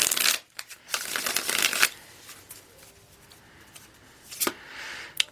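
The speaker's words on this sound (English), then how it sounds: "One more shuffle." Tarot cards being shuffled in several quick riffling bursts, close and crisp, separated by short pauses and quieter handling rustles, with no talking.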